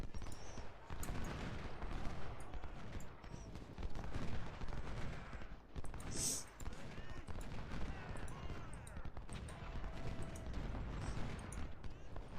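Musket volleys and gunfire from an American Civil War battle in the Ultimate General: Civil War strategy game, a dense continuous crackle of rifle fire under ongoing battle noise, with voices heard throughout.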